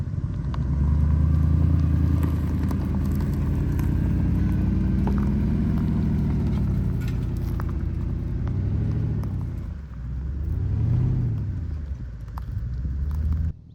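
Porsche Cayenne Turbo (957), a late-2007 car of the 2008 model year, with a deep, steady engine rumble close by that swells in a couple of brief revs toward the end.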